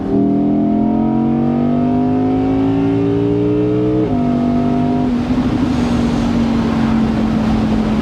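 An Audi R8 V10 Performance Spyder rated at 612 bhp accelerates hard. Its loud, rising engine note climbs through a gear change, then holds a steady high drone while on the road.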